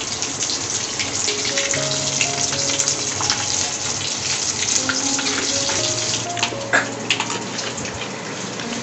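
Potato vada fritters deep-frying in a pan of hot oil in a home kitchen, a steady dense sizzle with bubbling crackle running continuously and close up, with no talking.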